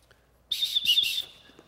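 A backpack's built-in safety whistle gives a single shrill blast lasting under a second, fairly close, with faint handling noise before and after.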